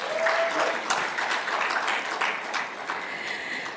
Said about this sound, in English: I think that deserves some applause.